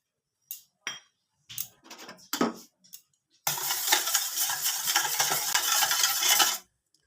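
A spoon clinks against a bowl in a few short taps, then stirs sugar and yeast into warm milk in a steady, loud scraping swirl for about three seconds before stopping.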